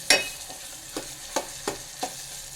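Onions hitting hot oil for a dal fry tadka give a sharp sizzle at the start, then four or five softer stirring scrapes recur at a steady pace, close and clear with no talk.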